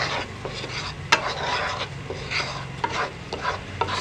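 Spices and black pepper being stirred into sizzling tempering oil in a pan, a continuous frying hiss with scraping and clinking spoon strokes throughout, close and without talk.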